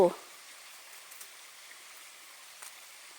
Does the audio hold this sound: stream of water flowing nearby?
yes